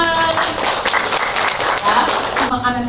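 A seated audience claps at a training session on cooking healthy menus to prevent child stunting. The applause is a steady, fairly loud wash that starts and ends over talking voices.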